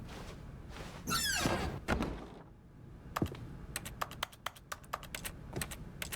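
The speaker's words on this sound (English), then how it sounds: "I love that the click action is a keyboard click." Keyboard clicks used as the interact sound in the video game The Stanley Parable: Ultra Deluxe, a brisk run of sharp, close clicks after a louder thud and swishing noise, with no talking.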